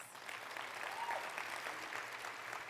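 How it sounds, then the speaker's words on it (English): An audience at a women-in-leadership event breaks into sustained clapping, a dense, even patter of many hands heard from a moderate distance with no voices over it. "So let's give yourselves a round of applause."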